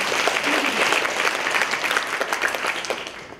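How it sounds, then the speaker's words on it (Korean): Sustained applause from an audience at a public deliberation forum, steady and dense throughout as a questioner from group ten is welcomed to speak. "우리 10조 질문자 큰 박수로 모시겠습니다."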